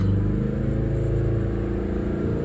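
Mazda engine idling up at a steady 2000 rpm during a low oil pressure check, a loud close mechanical drone with an even low rumble and light clatter, no voices.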